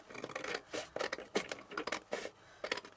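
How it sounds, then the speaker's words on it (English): Scissors snip through card for handmade greeting cards in a run of short crisp cuts, close and fairly loud, with no talking. "let me just cut this bit off"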